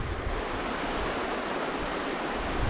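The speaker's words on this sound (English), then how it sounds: "just sitting here listening to this water. No one around you, absolute quietness from people. Just the river flowing, just pure nature." A river flowing in a mountain nature park, a constant broadband rush of moving water, steady and fairly soft, with no voices or other sounds.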